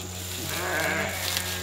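A sheep bleats on a farm, one drawn-out quavering bleat at moderate distance over a steady background hum.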